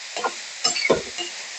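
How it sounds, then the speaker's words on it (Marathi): Chopped kartule (spiny gourd) being stirred and sautéed in oil with asafoetida and turmeric: a few short scraping stirs and soft sizzles in separate bursts, close and moderately quiet. "ही जी करटुली चिरलेली आहे ती सगळी घालून घ्यायची, परतायची. अशी तेलावर परतायची."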